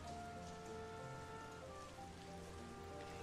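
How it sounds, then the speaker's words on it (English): Steady rain falls in a flash visual novel game, a dense continuous patter of drops on a surface layered under soft sustained background music, with no voices. "Heaven is throwing rain onto you"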